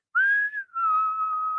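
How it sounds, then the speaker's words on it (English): A person whistles a creepy horror-movie tune, one clear sustained note that bends upward, dips briefly, then glides down and holds, close and alone. "usually the whistling is in a horror movie where you're hiding from the bad guy"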